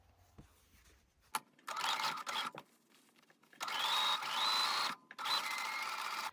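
A sewing machine top-stitching fabric runs in three short, loud bursts close by, its rapid mechanical whir stopping and starting with quiet pauses between.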